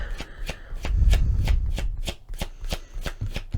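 Tarot cards being shuffled by hand, a close, steady run of crisp riffling snaps about every quarter second with a soft rumble of handling beneath, no talking.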